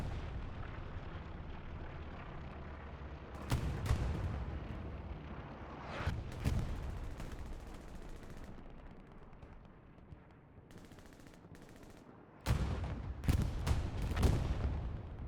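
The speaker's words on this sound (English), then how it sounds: "Looks like a satchel went off on that house." A satchel charge goes off on a house in a competitive team video game match, with booming blasts and bursts of gunfire scattered over a constant rumbling battle background, moderately distant.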